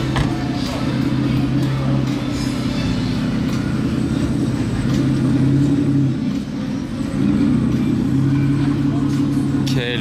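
Aston Martin Zagato driving past at night in Monaco, a deep steady engine drone with rising and falling revs, close and loud throughout, with people talking over it.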